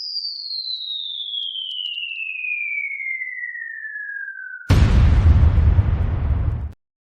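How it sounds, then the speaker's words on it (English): A cartoon truth-bomb sound effect starts with a loud descending whistle that falls for several seconds, then ends in a booming, rumbling explosion that cuts off abruptly. "Where's our bomb, our truth bomb?"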